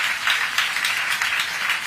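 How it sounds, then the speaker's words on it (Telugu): Audience applause at a Vana Mahotsavam tree-planting festival gathering, a steady, dense patter of many hands clapping together for the full two seconds with no voices over it. "గట్టిగా అందరూ కూడా చప్పట్లు కొట్టి అభినందించండి."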